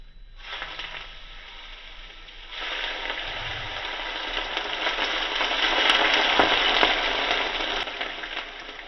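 Three tablespoons of hot sesame oil poured over sesame seeds, soy sauce and spring onions, giving a steady close sizzle that swells after a few seconds and stays loud to the end, with a few faint clinks.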